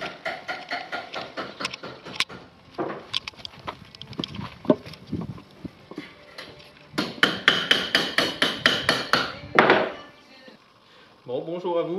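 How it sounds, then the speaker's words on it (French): Metal hammering in a restoration workshop near Le Creusot, with rapid repeated clangs and sharp strikes, a dense burst of blows in the middle, and a voice speaking near the end. "Je ne sais pas si vous entendez déjà dans l'atelier, ça ferraille"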